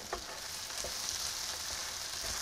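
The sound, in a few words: garlic frying in pan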